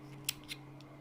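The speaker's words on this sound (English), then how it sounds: "We have to cut the yarn" Scissors snip crochet yarn up close with two or three quiet, crisp clicks spaced across a second over a soft background hum.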